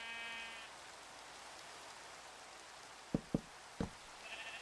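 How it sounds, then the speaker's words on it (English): Sheep in a video game bleating faintly at the start and again at the end, with a few sharp taps in between over a quiet ambient background. "I don't know what sheep that is"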